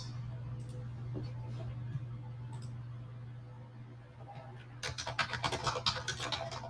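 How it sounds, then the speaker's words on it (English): Rapid clicking of keys on a keyboard picks up near the end, a quick patter over a low electrical hum and faint background voice. "All I hear is Smitty just typing away"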